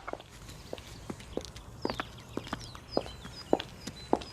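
Women's high-heeled shoes click on a footpath, about a dozen sharp, evenly spaced taps at a walking pace, fairly close and clear over a quiet outdoor background.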